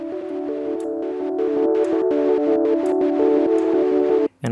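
Phase Plant synth sequence pad with no delay added, a sustained harmonic chord tone that pulses rhythmically with gaps between the steps. It plays steadily and alone, then cuts out briefly near the end.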